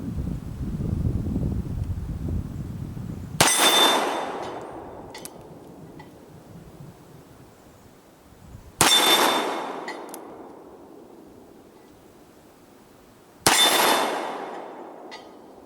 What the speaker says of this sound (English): we'll shoot some steel plates, and we'll see how this thing rings that steel